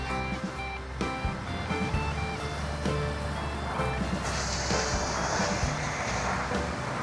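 High waves surging and crashing on a shore during rain while camping at Pinnacles, a continuous loud roar of water with repeated surges and brief knocks close by.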